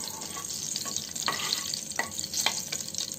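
Garam masala, coriander and turmeric fry in hot oil for a tempering, with a bright continuous sizzle broken by repeated stirring scrapes across the pan, close and moderately loud, no voices.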